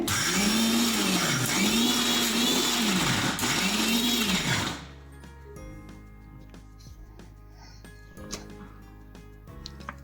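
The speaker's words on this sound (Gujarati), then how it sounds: "આ બે લીંબુનો રસ છે એને એડ કરશું ને પાછું ગ્રાઇન્ડ કરી લેવાનું છે" A mixer grinder whirs loudly as it grinds green chutney with lemon juice. Its motor pitch rises and falls in three repeated pulses, then it stops abruptly, leaving faint clicks and kitchen handling sounds.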